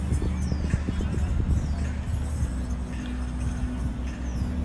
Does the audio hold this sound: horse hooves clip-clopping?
yes